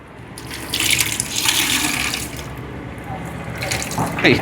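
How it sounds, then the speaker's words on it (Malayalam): Water splashing and trickling as a cloth soaked in camphor water is dipped and wrung out by hand over a container, steady close dripping and gushing with a few louder swells. "നല്ല രീതിയിൽ തന്നെ ഒന്ന് മുക്കിയെടുത്തിട്ട് ഞാനൊന്ന് പിഴിഞ്ഞെടുക്കുന്നുണ്ടേ"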